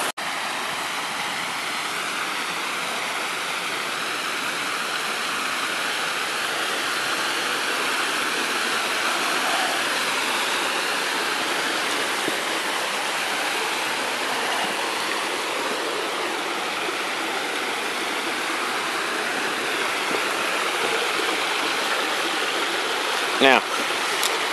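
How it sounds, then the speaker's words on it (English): A waterfall and stream rush steadily beside a beaver dam near Trinidad, Colorado, giving a constant broadband roar that stays even and close throughout, with no voices over it. "The other side of the waterfall is over here."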